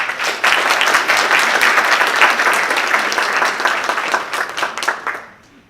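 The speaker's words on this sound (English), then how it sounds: "We can also give her a round of applause." Many hands clap together in loud, continuous audience applause at a D.D.S. 2018 ceremony, holding steady for about five seconds before quickly tapering into silence.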